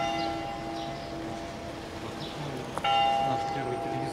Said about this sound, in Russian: О, церковь стучит.